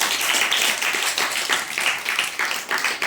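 A congregation at a prayer service claps their hands in lively rhythmic bursts that swell and dip for several seconds.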